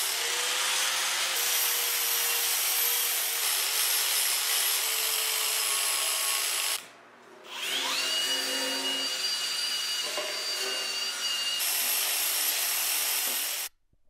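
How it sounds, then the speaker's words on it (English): An angle grinder fitted with a flap disc sands an old second-hand wood stove, a loud continuous whirring grind that cuts out briefly midway, spins back up and then stops. "I'm gonna switch to a grinder and I'm gonna use a flapper disc"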